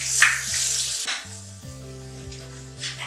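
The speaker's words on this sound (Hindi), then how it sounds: "मसाले को आपने बहुत अच्छी तरह भूनना है।" Spice masala with salt and crushed red chillies frying in a pan, giving a soft sizzle and crackle with occasional stirring, faint and close, over a quiet tonal background.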